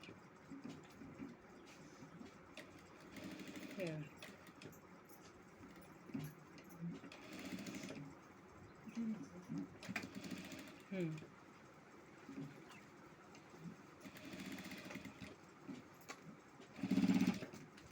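A sewing machine stitching a prince-cut blouse, heard as faint, intermittent runs of rapid mechanical whirring under someone talking quietly.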